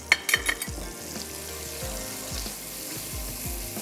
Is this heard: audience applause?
no